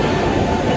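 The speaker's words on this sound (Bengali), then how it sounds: "মেট্রো চলে এসেছে" A metro train rolls into a station, a loud, steady rumble of wheels and carriages filling the whole short moment with no voices.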